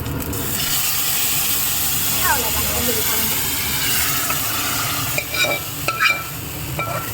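Hot oil sizzles and crackles steadily as dried red chilies hit the pan for tempering, with a few clinks of a spoon near the end.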